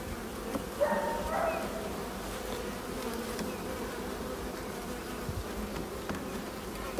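Honeybees buzzing around an open hive during an apiary inspection, a dense, steady drone close by with a few individual bees briefly louder as they pass.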